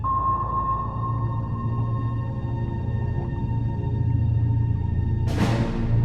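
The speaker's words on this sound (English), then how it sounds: "Harder remains vulnerable to the destroyer's active sonar pings" Active sonar from a World War II destroyer hunting a submarine, a steady ping tone sustained underwater over low rumbling hum, with a sharp broadband burst near the end.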